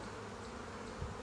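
Honey bees buzz in a steady, close drone around beehives that a bear has damaged, with no other sound standing out.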